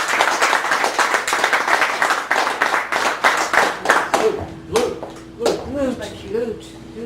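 Audience applause at Chicago's Cafe Gallery poetry open mic, a burst of clapping for several seconds that fades out as a voice begins speaking, with an indistinct whimpering sound under it.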